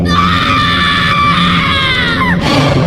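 A woman's loud, sustained scream of terror as a horror-story effect, shrill and piercing, ending in a brief falling cry.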